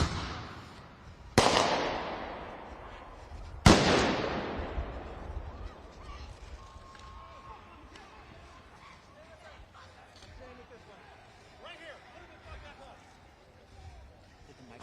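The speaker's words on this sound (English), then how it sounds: "Fireworks are going off" Two loud, sharp firework blasts ring out near the start at a tense street protest with police on both sides, each decaying into echo, followed by crowd noise and people talking.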